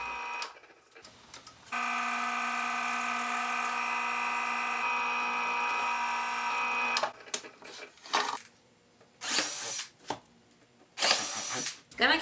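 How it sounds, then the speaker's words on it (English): A drill press bores holes in a board for a router circle-cutting jig, a steady whining run of about five seconds followed by several short bursts of drilling separated by pauses. "then took it to the drill press"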